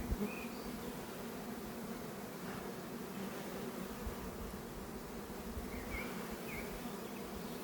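Honey bees at an open hive give a steady, dense buzz throughout, fairly quiet, with a few individual bees passing nearby and no talk.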